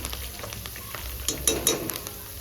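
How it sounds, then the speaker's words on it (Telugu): Curry leaves crackle and sizzle in hot tempering oil for a gongura pickle, a steady close fry with a few sharper pops near the end. "బాగా ఈ కరేపాకు క్రిస్పీగా కావాలి"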